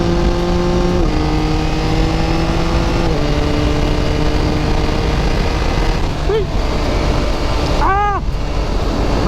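A motorcycle engine hums close up while riding, its pitch stepping up through gear shifts as it accelerates, with a brief whistling chirp near the end.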